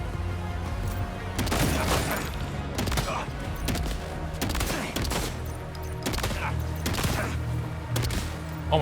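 Rapid bursts of gunfire in Death Stranding 2, loud volleys and automatic strings of shots firing repeatedly across the whole stretch with brief gaps, close and forceful.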